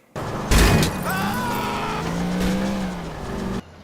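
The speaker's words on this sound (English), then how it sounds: "right before a hilarious car crash" A car in Grand Theft Auto IV crashes with a sudden loud impact burst, followed by engine revving and squealing tires that rise and fall before cutting off abruptly.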